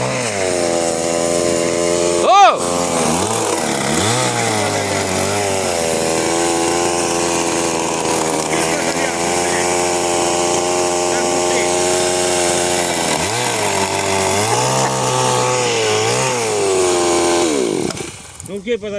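A chainsaw roars loudly and continuously, its engine pitch rising and falling as it revs, then cutting off at the end.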